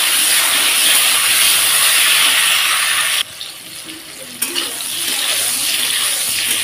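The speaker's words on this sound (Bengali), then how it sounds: "তো দেখো আমটাকে আমি বেশ সুন্দর লাল করে ভেজে নিয়েছি" Mango pieces sizzle in hot mustard oil with salt while being stirred, a steady loud hiss of frying that drops briefly mid-way before rising again, with no talking.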